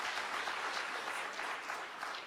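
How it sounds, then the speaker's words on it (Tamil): An audience at a comedy pattimandram debate claps together, a dense, even burst of applause that holds steady throughout. "நல்ல சந்தோஷமா கைத்தட்டலாம் ஐயா"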